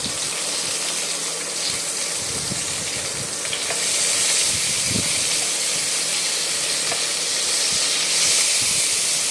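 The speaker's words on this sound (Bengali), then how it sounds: "বেগুনটা নুন হলুদ মাখিয়ে ভাজতে দিয়ে দিয়েছি।" Eggplant slices coated in salt and turmeric fry in oil with a loud, steady hiss that swells slightly midway and never lets up; no one speaks.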